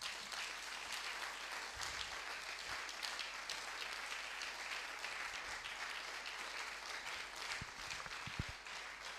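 A congregation at a Sunday church service applauds in a continuous, fairly faint roll of many hands clapping, sustained evenly from start to finish with no talk over it.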